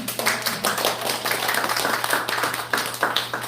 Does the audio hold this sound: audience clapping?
yes